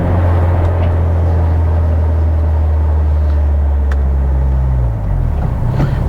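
Turbocharged Mitsubishi Evo X with a TRU 3582-spec turbo, twin Walbro 255 pumps and a 3-inch intake, its engine droning loud and steady while driving, a deep rumble that shifts in pitch near the end.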